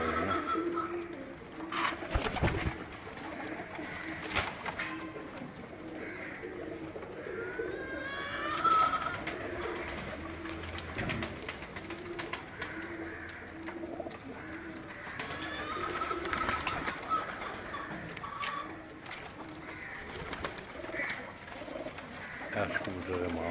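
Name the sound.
pigeons cooing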